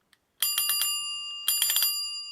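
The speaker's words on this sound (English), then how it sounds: "I think the twist grip bell is probably the coolest thing about this bicycle." Twist grip bell on a Gazelle bicycle with a fork issue rings in two quick bursts of bright, ringing pings, each run of four or five strikes leaving a sustained metallic tone, loud and close.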